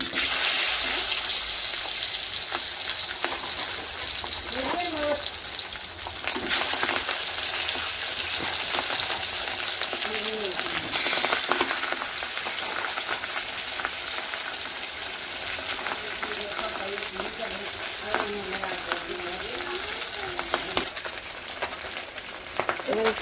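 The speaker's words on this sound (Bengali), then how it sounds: "এবার আমি মাছটা ভেজে নেব।" Pabda fish rubbed with salt and turmeric fries in a pan, giving a continuous dense sizzle close by with occasional bursts and stirring scrapes.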